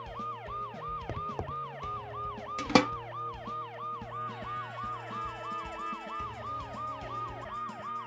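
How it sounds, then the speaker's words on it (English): Ambulance siren from the Dead Synchronicity video game, a loud, steady wailing two-tone sweep repeating rhythmically up close over a low engine hum, with a sharp crash of breaking glass partway through. "the ambulance's deafening siren"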